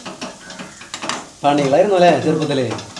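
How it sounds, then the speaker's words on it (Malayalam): Onions sautéing and being stirred in a pan in a Kerala home kitchen, with scraping and sizzling under a voice speaking close by. "ഉള്ളി ഇതുപോലെ വാടിയെടുത്താൽ ടേസ്റ്റ് ഉണ്ടാവുള്ളൂ"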